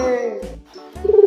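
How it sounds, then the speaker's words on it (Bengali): A dove calls from a tree branch with a couple of short, soft cooing notes, fairly close, over a light musical backing. "ঘুঘু পাখি ডাকে"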